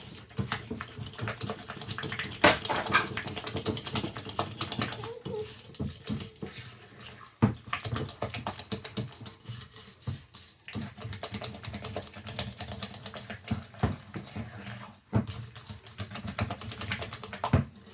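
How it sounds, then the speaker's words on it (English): Hand whisk creaming butter and sugar in a bowl for holiday treats, irregular rapid clicking and scraping strokes close by, starting and pausing in bursts. "This right here. A hand whisk."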